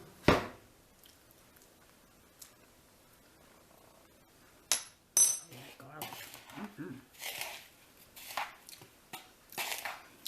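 A metal spoon scraping into a dish of cheesy baked artichoke and lifting a taste, quiet close clinks and soft scoops spread over a near-silent stretch, followed by faint wet mouth sounds.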